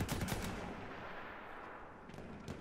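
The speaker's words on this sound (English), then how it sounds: "Who's shooting at me?" Gunfire in the video game Battlefield 1 comes as distant, rattling machine-gun bursts, fairly faint, with a cluster at the start and a couple of sharper shots near the end over a hissy background.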